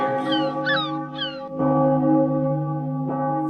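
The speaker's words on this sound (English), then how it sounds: "A bird screams and sat on me." Harsh, drawn-out bird cries outdoors near an old Orthodox church in Taman, southern Russia: a few short squawks followed by long, loud, tonal screams ringing close by.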